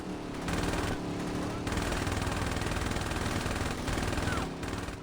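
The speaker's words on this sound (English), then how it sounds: "This is the special platinum SMG and everything is still doing almost nothing to him" Sustained rapid automatic fire from the special platinum SMG in the Saints Row video game, a dense continuous rattle with short breaks, loud and close, with a voice talking faintly underneath.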